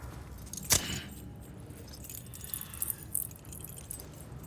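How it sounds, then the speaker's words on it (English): A single brief jangle of car keys in the video game Death Stranding 2, a sharp metallic burst early on that fades into a low, quiet ambient game background. "Magic car keys."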